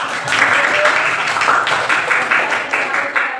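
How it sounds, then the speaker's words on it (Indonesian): A classroom group applauds, dense continuous clapping from many hands, fairly close and loud for several seconds with some voices mixed in. "beri tepuk tangan"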